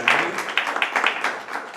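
An audience at a members' event of the Centro Asturiano applauds, a moderate, fairly close patter of clapping hands that swells at the start and then tapers slightly, with no voices over it.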